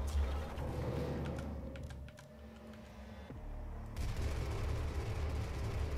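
Gunfire in the Doom (2016) video game, sharp repeated shots over a dense, loud game soundscape, with a brief drop in intensity midway before the action swells again.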